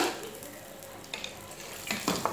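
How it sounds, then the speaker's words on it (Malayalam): Cumin seeds frying in hot oil in a pan for sabudana khichdi, a steady close sizzle with a few brief stirring scrapes, no voices. "എണ്ണയാണ് ചൂടായി വരുമ്പോൾ അതിലേക്ക് നമ്മൾ എടുത്തു വെച്ചിട്ടുള്ള ജീരകം ചേർത്ത് കൊടുക്കുക"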